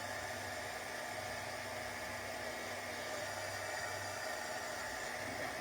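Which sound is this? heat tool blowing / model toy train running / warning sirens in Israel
heat tool blowing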